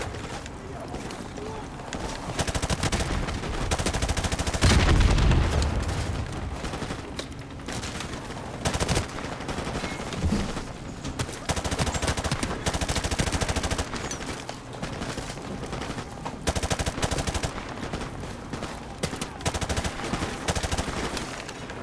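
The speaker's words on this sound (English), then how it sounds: "Where am I getting shot from?" Rapid bursts of gunfire from Call of Duty 4 Remastered, on the swampy Bog mission, crackle steadily, with heavier close volleys around the middle and scattered shots trailing through the rest.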